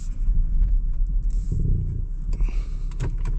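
A 2025 Land Rover Defender 110 D350 on all-terrain tyres struggles for grip on slippery ground, giving a steady, close, low engine rumble that swells slightly partway through.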